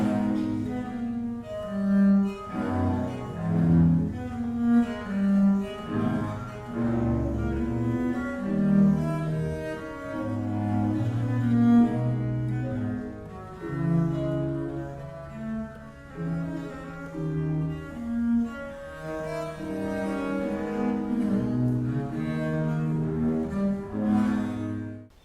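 A viola da gamba part in Bach's aria "Komm, süsses Kreuz" from the St. Matthew Passion, with a sustained, flowing low string line and accompanying voices and instruments, steady and moderately loud with no talking.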